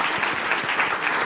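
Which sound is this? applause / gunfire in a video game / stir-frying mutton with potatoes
applause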